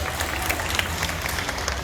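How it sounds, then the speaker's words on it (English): Audience at a Disney Animal Kingdom bird show clapping for a volunteer, a brief, dense burst of mixed applause from a crowd outdoors at moderate volume. "Round of applause for our volunteer."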